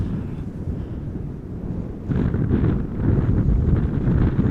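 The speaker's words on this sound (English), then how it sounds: "the wind is coming from this angle" Steady crosswind roars and buffets against the microphone at Amsterdam Schiphol Airport, a continuous broadband rush that swells louder partway through, with no voices.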